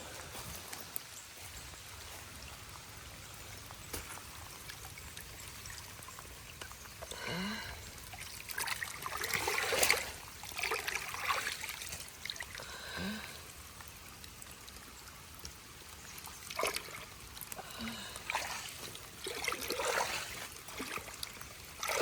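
Water flowing out of a clogged drain pipe outdoors, a faint trickling stream that swells into splashy gushes in bursts, quiet and somewhat distant with no talking.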